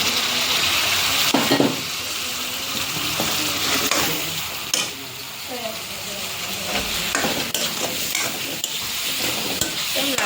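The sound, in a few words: paneer frying in ghee with ginger, chillies and garlic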